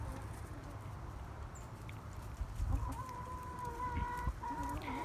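Pet chickens cluck in short, repeated calls close by, a few birds vocalising over a low background hum.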